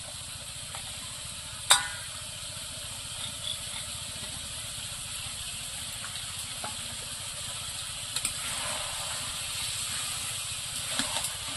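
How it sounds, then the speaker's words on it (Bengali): Cumin paste sizzles steadily in hot oil while being stirred into a broccoli and goat liver curry, a continuous close hiss broken by a few light clinks of the spoon against the pan. "জিরে বাটা দিয়েছে, একটু নাড়াচাড়া দিয়ে দেবো।"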